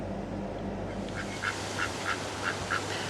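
Ducks quack in a short run of about six nasal calls, fairly evenly spaced, over a low background hum.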